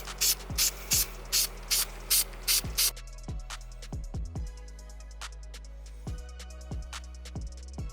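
Short bursts of adhesive spray hiss onto a car horn piece for a Scion tC, about eight quick close puffs in a steady rhythm, followed by softer clicks and handling sounds.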